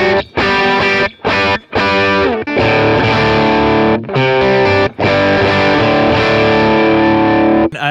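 Driven electric guitar through an amp modeler and stock cabinet, loud and close, playing distorted chords and riffs in short bursts separated by brief pauses, with no talking.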